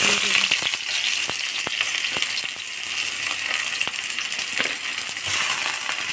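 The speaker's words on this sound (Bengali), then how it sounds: "তেল দিয়েছি তেল গরম হয়ে গেছে পেঁয়াজ" Onions fry in hot oil in a wok, a loud continuous sizzle with scattered sharp crackles and pops throughout, no talk over it.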